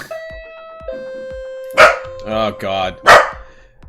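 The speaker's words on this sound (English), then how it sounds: "Excuse the barking." A dog barks at an Amazon delivery arriving at a home, a few loud, close bursts following a doorbell-like electronic chime, with a person talking briefly in between.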